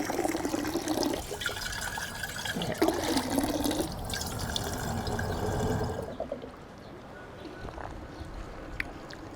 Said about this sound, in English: Drinking water from a public tap like this.